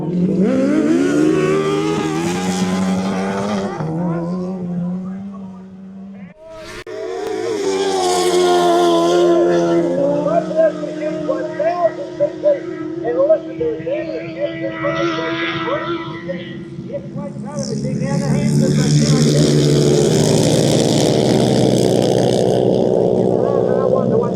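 Racing motorcycles or quads at the Burt Munro Challenge in Invercargill, New Zealand, roar past with rising and falling engine notes, heard under a commentator who talks over most of the stretch.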